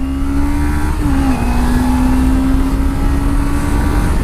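A Suzuki V-Strom 250 motorcycle pulls in second gear, its engine a loud, close, continuous drone that holds a steady pitch with a slight dip partway through, and no speech.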